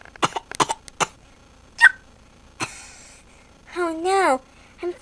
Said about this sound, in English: when Spot started coughing.